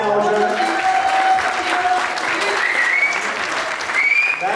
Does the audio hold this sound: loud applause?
yes